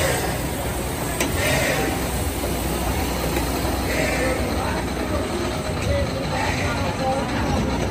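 A continuous rumbling clatter of a small amusement park train rolling along at Kings Island during Winterfest, with steady mechanical noise throughout and faint voices in the background.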